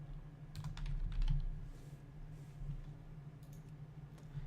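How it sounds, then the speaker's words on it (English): Typing on a computer keyboard's arrow keys, heard as a few faint, scattered key clicks over a steady low hum, with no one talking. "you're going to have to use your arrow keys, not the mouse"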